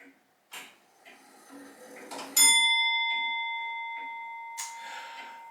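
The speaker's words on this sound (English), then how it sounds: "I'll wait till it finishes its little chime." An antique clock gives a single bright chime that rings out and slowly decays over about three seconds, preceded by small clicks and knocks from the mechanism, with a softer strike near the end.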